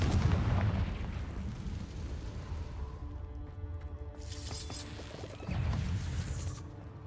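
Hogwarts Legacy Confringo blasting spell going off, a loud rumbling burst that fades into a hissing, shimmering tail, then a second heavy blast near the end, booming and close.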